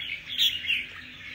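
Red-whiskered bulbul (chào mào) giving bright, chirpy calls, a short run of slurred tweets close by, with a steady faint hum underneath and no talking.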